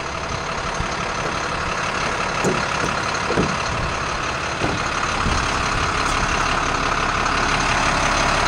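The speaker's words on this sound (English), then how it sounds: "The engine's super clean. Runs like a champ." A low-hours truck engine, around 3,400 hours, idles with a steady, loud, even drone throughout, broken only by a few faint clicks.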